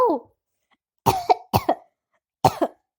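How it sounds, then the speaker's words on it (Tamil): A short cough, then a pause, followed by three harsh coughs, each a quick double burst, close to the microphone. "இந்த இருமல் வேற அப்பப்போ வந்து உசுரம் வாங்குது"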